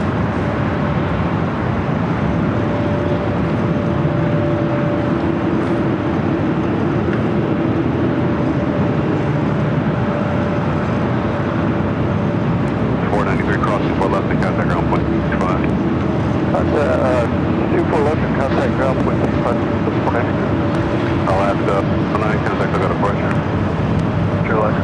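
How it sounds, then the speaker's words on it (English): A Dreamliner airliner at LAX bound for Honolulu gives a steady, loud jet roar that holds throughout, with a faint tonal whine running through it. Louder crackling rumble builds toward the end, and a voice talks over it. "Dreamliner heading to Honolulu."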